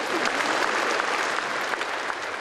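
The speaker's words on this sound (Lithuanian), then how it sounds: "Šie aplodismentai turi istorinę reikšmę." A crowd applauds, dense continuous clapping from many hands, steady and fairly loud throughout with no break.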